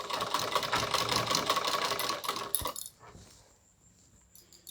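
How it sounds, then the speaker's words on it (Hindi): A sewing machine stitching a cancan net onto a lehenga hem, running in a fast, close, rattling burst for under three seconds, then stopping, leaving faint room noise. "यूँ बैठाएंगे और इस पर सिलाई चलाएंगे।"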